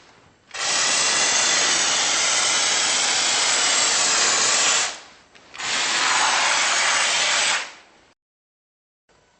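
An Insulfoam DIY spray foam insulation kit sprays in two long bursts, a loud steady hiss of about four seconds and then a shorter one of about two and a half seconds, close up with no talking.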